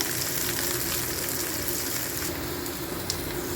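Sliced onions and green chili fry in a pan for curry-leaf prawns, giving a steady, dense sizzle that stays loud and even throughout, close up and with no talk.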